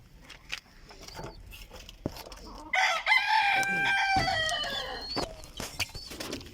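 Hens and chicks gather around a spread of wheat, barley and seed feed, clucking and cheeping close by, with a louder sustained crowing call from a rooster in the middle.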